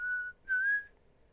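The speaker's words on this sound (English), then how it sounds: "whistling the entire way." A person whistles two clear, sustained notes, the second slightly longer and rising, alone and close in a quiet setting.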